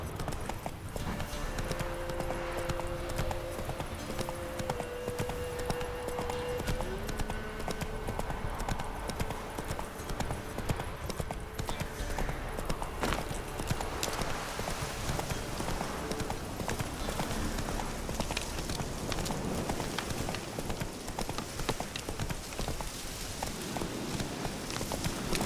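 Horse hooves clip-clop steadily in the video game The Witcher 3: Wild Hunt, a continuous walking gait beneath game music and ambient sound, with no clear talk over it.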